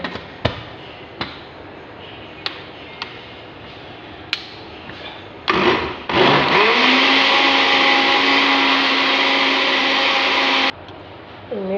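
An electric blender whirs loudly and steadily for about five seconds, blending food, after a few sharp knocks and clicks from handling and setting the jar in place; the motor stops abruptly near the end.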